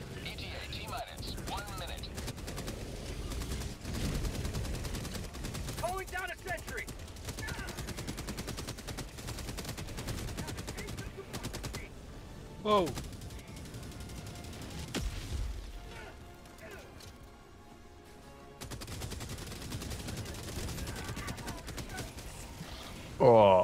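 A Gatling gun fires in a video game as long continuous buzzing bursts of rapid shots, loud and close, with brief pauses and short exclamations from players over the gunfire.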